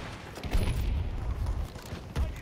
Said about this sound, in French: C'est un véhicule hein, qui tire dessus.